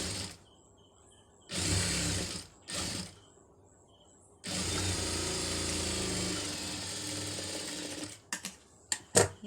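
Sewing machine stitching a fold for a scallop border design, three short bursts of rapid rattling stitching followed by a longer run of about four seconds, then a few brief clicks.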